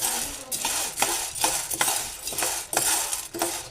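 Val beans dry-roasting in a pan while being stirred, a rhythmic series of scraping, rattling strokes roughly every half second, close and moderately loud with no talking.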